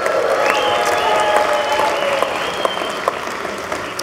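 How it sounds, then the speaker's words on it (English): An audience at a winter speaker event applauds the sponsors, with close, loud, steady clapping filling the few seconds and a faint tonal sound running beneath it. "Let's give them a big round of applause."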